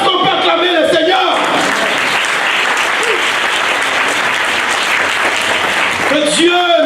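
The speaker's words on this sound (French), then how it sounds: "Est-ce qu'on peut acclamer le Seigneur?" A church congregation at a Sunday service in Cergy breaks into loud, sustained applause and cheering for the Lord, lasting several seconds, with a voice speaking just before and just after.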